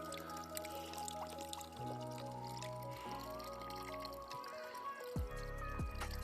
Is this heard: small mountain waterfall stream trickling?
yes